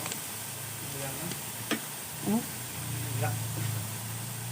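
Garlic and onion sizzling in a hot pan while cooking chicken noodle soup at home, a steady soft crackle with a few stirring clinks, under someone talking.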